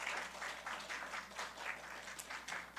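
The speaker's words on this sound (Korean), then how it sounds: "박수로 환영해 주시고 축복해 주시기 바랍니다." A church congregation at a worship service claps to welcome students, a soft, fairly distant patter of hands with a loosely pulsing rhythm and no one talking over it.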